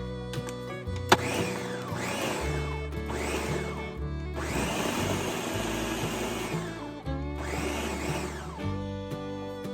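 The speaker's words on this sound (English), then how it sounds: "I'm just going to blend it for a couple seconds here." A blender whirring through bread dough with orange and raisins, running in several loud pulses of rising and falling motor whine with short pauses between them and a single sharp click near the start.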